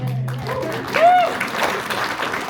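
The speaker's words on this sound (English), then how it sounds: "You can give her a round of applause." Audience applause honoring a player at an International Women's Day women-in-sports event, a short burst of clapping under and around a speaking voice.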